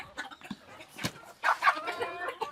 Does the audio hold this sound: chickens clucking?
yes